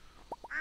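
Two short quacks from ducks on a Stardew Valley farm, followed by a brighter sustained call, fairly quiet and clear with no talk over it.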